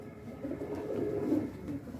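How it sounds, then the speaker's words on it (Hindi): Soft, low cooing of mostly spotted Kalsara pigeons blending into a steady murmur, several birds calling close by with no one speaking. "अधिकतर कलसरे कबूतर हैं"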